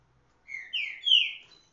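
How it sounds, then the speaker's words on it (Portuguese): A caged coleiro, or double-collared seedeater, sings one short, bright phrase of three rising and falling whistled notes. The song is close and clear against silence. "O cantor, o Falcão vai cantar."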